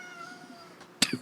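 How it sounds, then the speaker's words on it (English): A cat gives a single short, sharp meow close by, quickly trailing off, over faint background sounds. "That was my cat."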